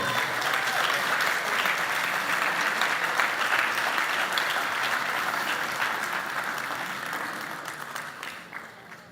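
Audience applause for Colombian llanera harp musicians at a world harp festival in Asunción, Paraguay: dense, steady clapping from a large crowd, sustained throughout and tapering slightly at the end.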